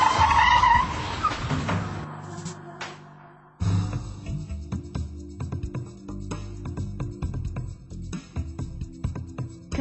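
A car skids out of control with a loud tire squeal and engine noise, then a sudden cut. Rough scraping and rumbling follow at a steadier, lower level.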